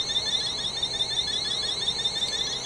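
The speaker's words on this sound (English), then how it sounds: "That alarm went off." An aircraft cockpit alarm sounds on its own, a steady high-pitched repeating tone that continues without pause at moderate loudness.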